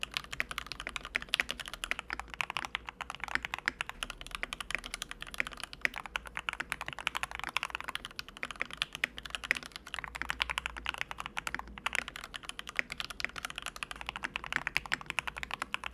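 An XM87 TKL mechanical keyboard fitted with tape and silicone mods is typed on steadily, giving a dense, continuous patter of deep, muted keystrokes heard close, with no talking.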